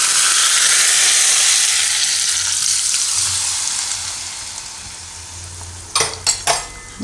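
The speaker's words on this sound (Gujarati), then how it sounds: "વઘાર આપણે આમાં નાખી દે, હું ઉપર લીમડો નાખી દઉં." A hot tempering of popped mustard seeds with curry leaves is poured into sabudana and semolina idli batter, bursting into a loud sizzle that fades away before a few sharp utensil clinks.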